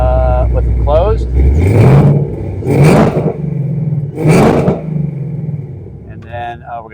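A supercharged 2017 Ford Mustang GT Premium with its exhaust valves closed, low rumbling idle broken by three sharp revs that swell and fall back, loud and close, with voices talking over parts of it.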